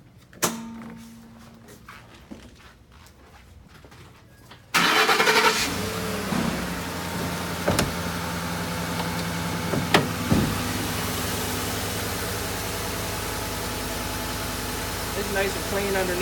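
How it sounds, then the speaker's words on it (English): A 2013 Ford F-150 XLT pickup's V8 engine cranks and catches after a few quiet seconds, then settles into a steady, rumbling idle with a few clicks and creaks over it. "Go ahead and fire up the engine."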